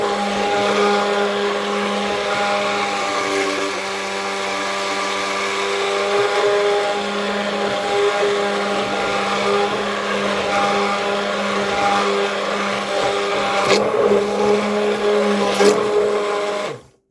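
A small Action-brand blender purees butternut soup, a loud steady motor whine with a churning low tone that runs continuously and cuts off at the end.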